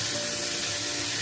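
Chicken gizzards and sautéed vegetables sizzle steadily in a hot pan while being stirred, a continuous close frying hiss with soft scraping underneath.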